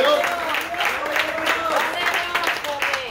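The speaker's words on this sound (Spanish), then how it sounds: "Dale palmas a Cristo de la gloria." A church congregation claps for Christ during worship, brisk applause with cheering and raised voices over it, loud and close throughout.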